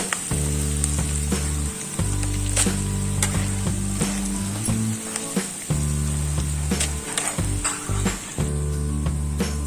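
Peanuts and salted green chilies frying in a pan give a steady, close sizzle with light stirring clicks, over a constant low mechanical hum that drops out and returns several times.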